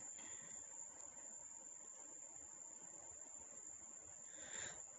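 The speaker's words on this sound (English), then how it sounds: "Dell Walker says, the Crickets seemed depressed on Tuesday night" Crickets chirp steadily through the night, a continuous high-pitched trill that stays constant and fairly distant, with no voices present.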